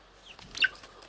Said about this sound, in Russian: Курица оккупирует нас, цыплята.